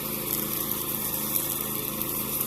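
A riding lawnmower's engine runs steadily with a continuous droning hum and a bright whine, close and even throughout, with no voices.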